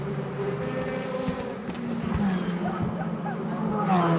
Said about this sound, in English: Absolutely faultless effort from Bruno Spengler as he takes the checkered flag and wins